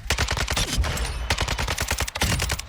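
A fully automatic gun fires in the video game Warzone, rapid close bursts of shots in two long strings separated by a brief pause, loud and alone.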